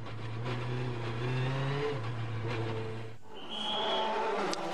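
A Volkswagen Polo R rally car at the 2013 Monte Carlo Rally accelerates away with a rising, buzzing engine note, shifts once, then continues pulling hard into the distance.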